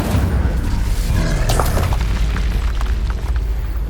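Incendio fire spell cast in the Hogwarts Legacy video game: a loud, dense burst with a sharp flare near the middle, sustained roaring rumble throughout, no voices heard.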